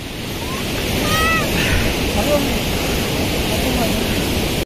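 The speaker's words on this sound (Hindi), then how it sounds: "पूरा वाटरफॉल सामने, ये देखो पानी जा रहा है" Flowing water at a waterfall in Munnar, Kerala, rushes as a dense, steady roar with wind buffeting the microphone and faint voices in the background.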